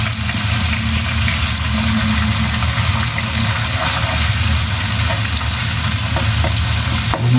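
Rendered pork fat sizzling hard in a pan as shrimp paste (bagoong) fries for Bicol Express: a loud, dense, continuous crackle and hiss that holds steady throughout, up close.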